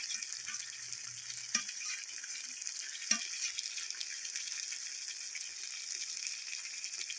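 Ground spice paste of coriander, chili and cumin sizzles and fries steadily in a pan, with occasional scraping stirs, close up and without any talking.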